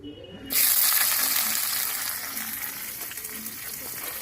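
Onions tipped into hot oil on a rooftop winter cooking setup burst into a loud, steady sizzle after a quiet start, the frying hiss holding close and bright before easing slightly.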